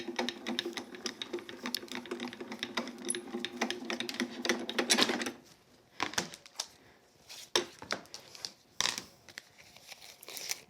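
A die-cutting machine feeds taped paper through its rollers with a steady, close mechanical grinding whir for about five seconds, then comes to a stop. Scattered handling clicks and rustles follow.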